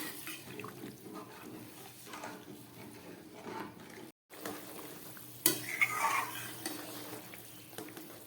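Fish curry broth boiling in a pan, a soft continuous bubbling and simmering hiss with a short break midway, then a faint clatter before the bubbling resumes.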